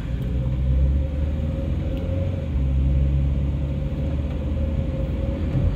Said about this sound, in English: so you can hear the noises that the car makes